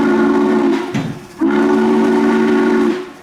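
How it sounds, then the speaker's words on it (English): The N&W 611 steam locomotive sounds its whistle loudly and up close: a long steady blast, a short break with a hissy transition, then a second sustained blast that cuts off. "showing off their iconic whistle to the eager crowd"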